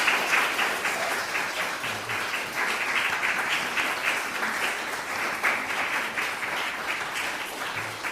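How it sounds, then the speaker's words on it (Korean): A church congregation at a Christmas service in Darmstadt claps to welcome newly baptized children and their parents, producing a sustained, even wash of moderate applause with no break for the whole stretch. "우리 오늘 세례를 받은 우리 루아와 그리고 노아에게 그리고 그들의 부모에게 뜨거운 박수로 환영하겠습니다."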